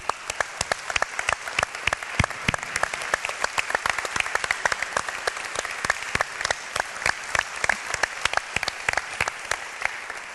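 Applause from a seated banquet audience at an end-of-year dinner, a steady, fairly dense wash of individual claps close by that continues evenly throughout without any voices over it.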